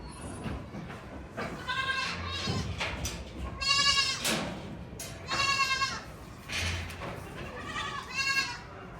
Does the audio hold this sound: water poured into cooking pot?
no